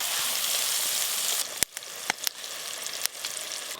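Spiced, marinated chicken frying with onions in hot oil, a steady loud sizzle broken by a few sharp clacks of a utensil against the pan near the end.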